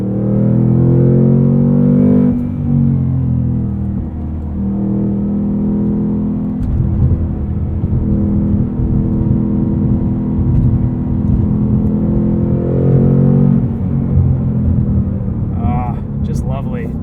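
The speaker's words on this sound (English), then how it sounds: "This Mustang might be the best sounding out of all of them." A 2022 Ford Mustang Mach 1 with a manual gearbox rumbles loudly and close through acceleration, its engine note holding steady harmonics that drop and rise again with gear changes, while a voice talks briefly near the end.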